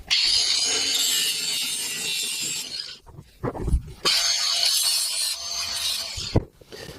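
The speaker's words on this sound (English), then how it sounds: "I forgot to grind the V in this, so angle grinder, let's go." An angle grinder cuts a V-groove into a cast iron handplane for a TIG brazing repair, giving a loud, sustained abrasive hiss in two long bursts separated by brief pauses with clanks and handling knocks.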